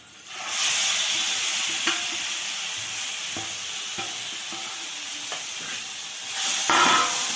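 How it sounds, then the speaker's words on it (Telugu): Tamarind pulp with turmeric fries in a hot pan for pulihora, a loud continuous sizzle broken by several stirring scrapes, briefly quieter then flaring again near the end, without talk. "ఇది కొద్దిగా పచ్చివాసన పోయేదాకా ఫ్రై చేసుకుందాము."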